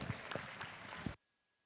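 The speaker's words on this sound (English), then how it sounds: "Let's give them a round of applause as they exit the ring" An audience at a 4-H beef showmanship ring at the Nebraska State Fair gives scattered applause with a few distinct claps, which cuts off abruptly into near silence.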